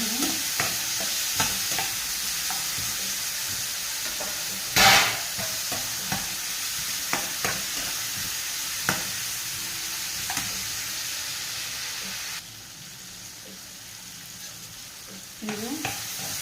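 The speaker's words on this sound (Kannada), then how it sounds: "ಒಂದು 5 ಸೆಕೆಂಡ್ಸ್ ಆಗೋಷ್ಟು ಇದು ಫ್ರೈ ಮಾಡಬೇಕು" Ingredients for bisibelebath fry and get stirred in a pan, giving a steady sizzle with scraping stir strokes throughout and a sharper clatter near five seconds; no talking.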